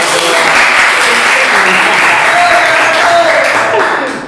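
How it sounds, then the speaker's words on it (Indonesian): A group applauds a national pencak silat champion at a vocational school, the clapping loud, close and continuous, holding steady before fading slightly at the end. "Gue tepuk tangan dulu dong."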